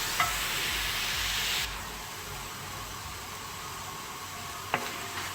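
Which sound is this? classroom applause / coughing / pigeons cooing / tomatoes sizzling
tomatoes sizzling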